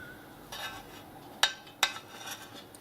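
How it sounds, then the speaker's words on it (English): Teriyaki tofu pieces lifted from a pan with a utensil, giving two sharp metallic clinks against the pan amid soft scraping and faint kitchen noise, with no talking. "we are going to try to get them out of the pan in one piece"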